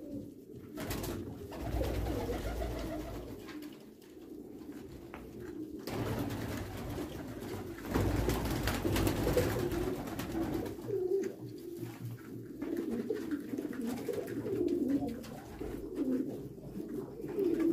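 Pigeons at a pigeon farm keep up a soft, throaty cooing from several birds at once, overlapping and continuous, heard close at moderate volume.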